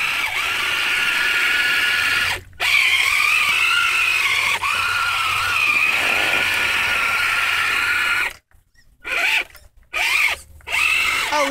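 An Exceed Mad Gear RC truck churns and whines loudly through mud without letup, its motor droning continuously, then cuts out in several short gaps near the end.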